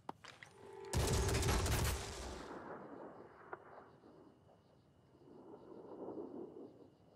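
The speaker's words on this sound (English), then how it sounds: "Opening fire." Gunfire erupts in Phoenix Point, the turn-based squad combat game: faint clicks, then a loud, sharp volley lasting about a second that decays into a rumbling tail, a single crack, and a distant low roar that swells again.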